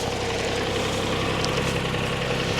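A Kubota tractor engine runs at a steady idle throughout, a continuous low rumble with even vibration, fairly close and constant in level, with no talk.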